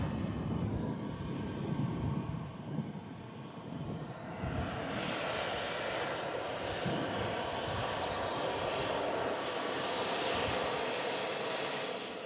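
An Emirates Airbus A380 at an airport, its jet engines giving a continuous, broad roar with a whining edge that strengthens partway through and holds steady, without talk.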